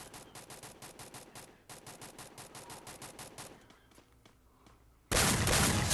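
Rapid gunfire from a video game, a long run of evenly spaced loud bursts that thins into scattered shots, then a sudden loud blast of noise at the end.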